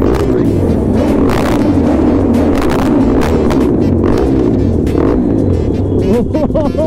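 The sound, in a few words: motorcycle engine sound echoing in a tunnel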